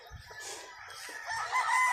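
A rooster at a game farm in Canlaon, Negros Oriental, crows in a strained, drawn-out call, close and fairly loud over faint background clucking.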